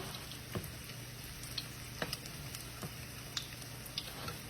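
Apple fritters frying in a pan of hot oil give a steady, quiet sizzle with scattered pops and crackles, faint and close, with no voices.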